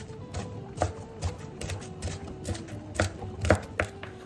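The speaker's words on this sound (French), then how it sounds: "J'épluche et j'émince très finement un oignon." An onion is chopped finely with a knife on a board, about a dozen crisp irregular taps in quick succession, close but fairly soft, with no voices.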